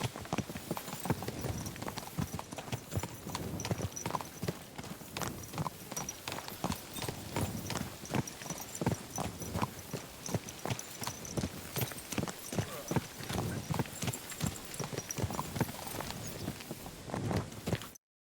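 Steady clip-clop of horse hooves walking at an even pace in the video game Kingdom Come: Deliverance II, close and continuous, with a busy background and no clear talk.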